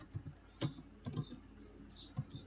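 Soft, quiet keystrokes tap on a computer keyboard while a database query is typed, about half a dozen irregular clicks over a couple of seconds in a quiet room.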